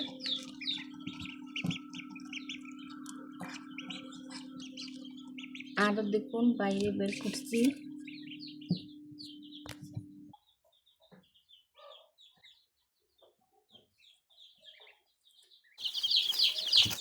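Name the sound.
ducklings and chicks peeping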